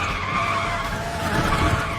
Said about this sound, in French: au niveau drift, elle est quand même pas mal